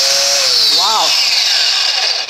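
An angle grinder with its guards removed, used for bodywork repair on a Mercedes, gives a loud high whistling whine that slowly winds down, with a brief voice breaking in partway.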